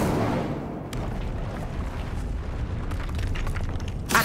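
A fire spell cast in a Hogwarts Legacy dungeon: a loud rushing burst of flame that roars at once and lingers as a broad crackling blaze, ending in a brief sharp flare.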